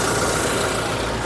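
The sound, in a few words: 2018 Toyota Innova Crysta 2.4 V engine running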